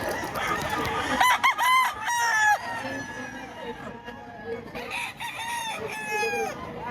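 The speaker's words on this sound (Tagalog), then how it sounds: "Ganda ng mga manok." Roosters crow repeatedly, loud and close, over a busy flock of clucking chickens at a chicken market in Lipa, Batangas, with some voices in the background.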